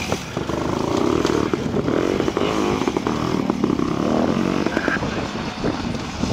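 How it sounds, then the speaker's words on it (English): Vintage two-stroke motorcycle ridden in a trial at a quarry, a steady, busy engine drone throughout with clattering, moderately close. "Paul Harrison, James, riding in the vintage two-stroke class."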